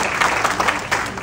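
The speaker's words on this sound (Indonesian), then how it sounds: "Silakan beri tepuk tangan yang meriah." A brief burst of applause from a church gathering, a dense patter of clapping from a group.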